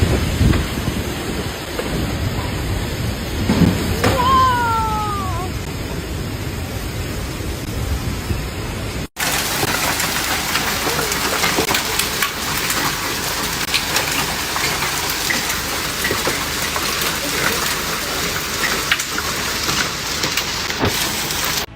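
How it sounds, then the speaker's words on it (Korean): Heavy rain and hail pour down with strong wind during a sudden storm in Hangzhou, China, a dense, loud, steady roar across two joined stretches, with a few brief higher whistles in the first part. "갑자기 강풍과 폭우 그리고 우박이 쏟아졌습니다"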